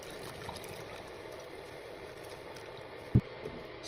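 Water from a wet Scrub Mummy sponge trickles and dribbles into a cup, a soft steady stream close by, with one sharp tap near the end.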